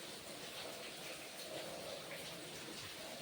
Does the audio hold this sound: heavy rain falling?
yes